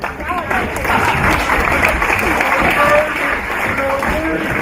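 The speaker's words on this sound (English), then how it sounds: "a round of applause for all our second division competitors this season" Audience applause at a rodeo awards presentation function, a steady dense wash of clapping from a large crowd with general hubbub underneath, sustained and even throughout.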